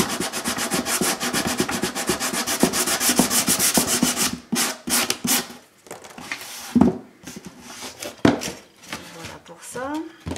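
A coarse-grit disposable nail file rubs back and forth in quick, close scraping strokes, steady at first, then breaking into shorter separate rasps, with a voice speaking in between.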